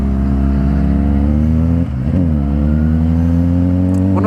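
A motorcycle engine revs loudly and steadily close by, its pitch dipping and climbing again as the bike passes, with no talk over it.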